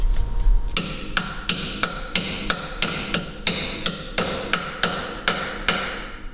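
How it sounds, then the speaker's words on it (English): A lump hammer drives a socket onto a rear brake bolt of an Audi Q7, about fourteen sharp metallic strikes in a steady rhythm, close and loud. "I'm actually going to hit that in with a lump hammer"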